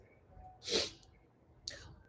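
A single sharp sneeze close by, followed a moment later by a short sniff or breathy exhale.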